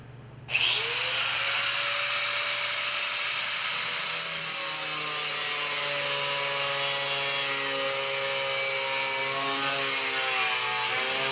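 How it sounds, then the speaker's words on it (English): An angle grinder fitted with a fresh wheel spins up with a sharp start and then holds a loud, steady high-pitched whine close by, with no talking, in a seat pan fabrication workshop. "we're going to take the side grinder, make sure our new wheel's tight on here, get this going"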